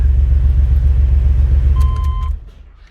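A 1993 Chevy S10 pickup engine idling steadily after new spark plugs and wires, a loud close low rumble that holds for over two seconds before dropping off, with a brief high whine near the end.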